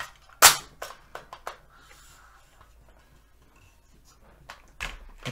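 An empty magazine goes into a 300 Blackout AR pistol, a sharp metallic clack followed by several lighter clicks and taps close up, then another click near the end.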